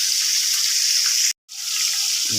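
Sinigang fish soup in a pot gives a steady close bubbling hiss, cut by a brief silence before the rumbling simmer resumes.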